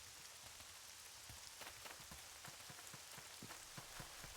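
Rain in the video game Neverwinter Nights patters steadily and quietly, with scattered crisp droplet ticks over a soft continuous hiss, heard alone.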